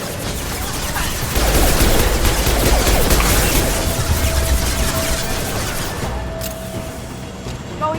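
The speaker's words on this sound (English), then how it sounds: "I'm going to shoot you to death with a pistol." Gunfire in the video game Mass Effect 2, a dense, loud burst of rapid shots and impacts that swells after the first second, then tapers into a quieter tail near the end.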